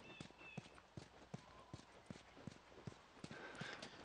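Horse hooves clopping in The Last of Us on PS3, a steady run of distinct, fairly close hoofbeats over a low game ambience.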